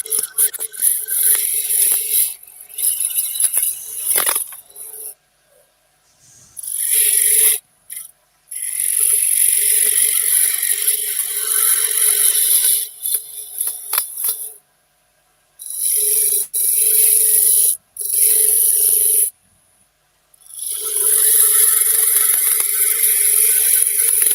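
A chisel cuts wood spinning on a lathe, producing loud, close, continuous rasping and scraping in long passes separated by short silent pauses, with no voices.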